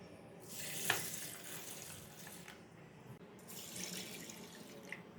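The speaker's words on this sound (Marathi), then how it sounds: "आता हे दोन्ही जिन्नस आपल्याला 2-3 वेळा पाण्याने स्वच्छ धुवून घ्यायचे।" Sorghum grains and chana dal being rinsed in a bowl under running tap water, a steady broadband splashing rush with brief pauses and a sharper splash near the start, fairly close and alone without talk.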